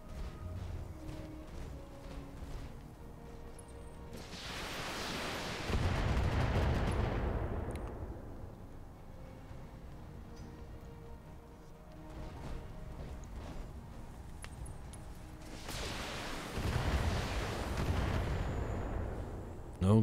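Gunfire rattles and booms in a Battletech mech battle, two heavy rolling bursts of shots and blasts aimed at the player's mech, loud and broad against a steady rumbling background, with no talking.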